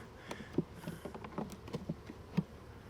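Honeybees in a hive being inspected give off a low, steady hum with scattered close buzzes and soft tapping, fairly faint and uneven, with no talk.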